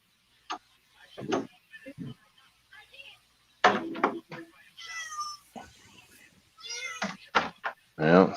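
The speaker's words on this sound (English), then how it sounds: "That's the cat yelling." A house cat yowls and meows loudly several times in a room, the cries rising over casual adult conversation, with a few knocks nearby.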